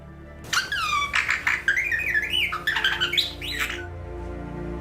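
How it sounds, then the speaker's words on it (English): Electronic, synthesized bird chirping in a quick series of squeaky, sweeping tweets and squawks, loud and close, running alone with no talk over it. "And this is the sound that a bird makes."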